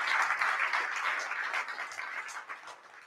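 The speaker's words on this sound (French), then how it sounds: "je vous demande d'applaudir la santé de la région" An audience applauds at an outdoor stage event in Sophia Antipolis, a soft, fairly distant patter of clapping that thins and fades toward the end.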